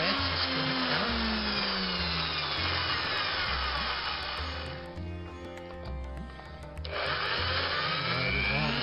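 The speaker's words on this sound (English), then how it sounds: "I'm just drilling 2mm at the front and out." A small drill bores 2mm holes into a diecast Corgi police Riley Pathfinder toy car, a loud continuous whirring whine that shifts in pitch, dips briefly midway, then picks up again, with no speech.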